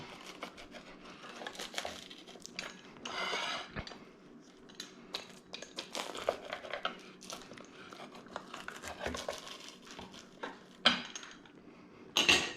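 Knife sawing through the crispy crust of a pizza made from overproofed dough, a run of close, dry crunches and scraping crackles against a plate, uneven and fairly quiet, with no talking.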